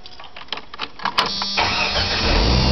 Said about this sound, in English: we'll turn the compressor off as soon as it's done pumping up